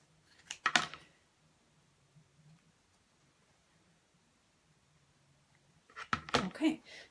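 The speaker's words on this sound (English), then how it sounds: "Now I'm going to cut directly with my scissors on this drawn line." Scissors snipping through fabric along a drawn line, two short bursts of close, crisp cutting at the start and end, with a quiet low hum in between.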